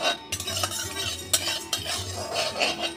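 Gobindobhog rice being stirred in a hot kadai off the flame, several close scraping and rattling strokes of a spatula against the metal pan, with a faint sizzle in the gaps.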